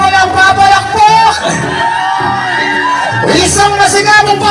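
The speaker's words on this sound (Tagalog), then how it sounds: "Isang masigabong palakpakan may hiyawan" A party crowd whooping, yelling and cheering loudly and close by, with excited voices calling out over the noise.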